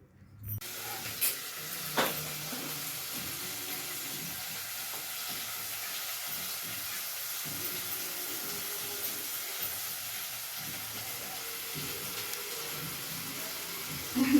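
Rice cooking in a pan, a steady close sizzle and frying hiss running throughout with occasional stirring scrapes, no talking.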